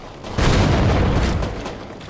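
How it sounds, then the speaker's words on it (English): A giant explosion in the video game Teardown lands as one loud deep boom, then a rumbling roar with scattered crackling debris that slowly fades, with no talk. "With a giant explosion."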